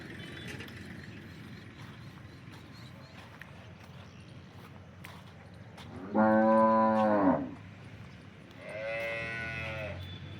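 Cows on a farm in Banaskantha moo twice, a long loud close call followed by a shorter second one, over quiet barnyard background with a faint voice talking early on.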